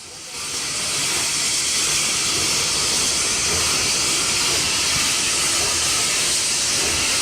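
Steady, loud steam hiss from an Andrew Barclay fireless steam locomotive working at an industrial site in Wales, a continuous broadband rush that swells in within the first half second and holds evenly throughout.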